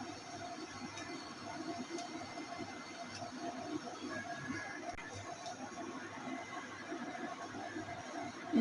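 An electric sewing machine stitching a cloth neckline gives a faint, steady rapid whirring hum with soft mechanical ticking, continuous and low in the background.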